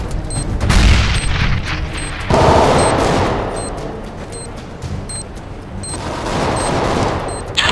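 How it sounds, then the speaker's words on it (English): A grenade is thrown and explodes during a competitive CS:GO match on Dust2, a loud boom among gunfire and game effects. "I'm throwing a grenade."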